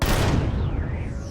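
A single heavy sniper rifle shot in the space survival game Empyrion Galactic Survival, a loud booming blast with a falling, whistling tail that fades over about a second.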